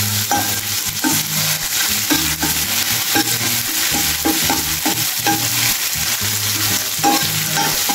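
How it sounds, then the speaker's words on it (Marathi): Green chili, garlic and coriander paste frying in oil over a medium flame, a continuous sizzle broken by repeated rhythmic stirring and scraping strokes, close and loud. "हे छान असं फ्राय करून घ्यायचं आहे तेलावरती"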